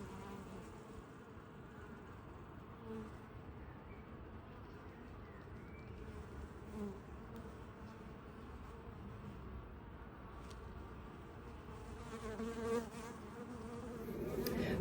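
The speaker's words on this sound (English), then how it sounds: "Nice and busy. Lovely bees." Honeybees buzz around an open hive during an apiary inspection, a dense, steady droning hum close by that swells slightly toward the end, with no speech over it.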